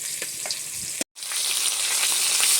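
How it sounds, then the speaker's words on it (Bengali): Japanese puti fish fry in hot oil in a pan, a loud close steady sizzle broken by a brief silent cut, then resuming bright and crackling as the fish is turned. "মাছটা পিঠ ঘুরিয়ে ভালোভাবে ভেজে নিচ্ছি"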